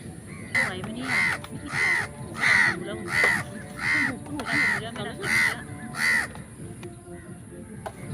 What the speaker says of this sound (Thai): ดำหิวแล้วกาก็หิว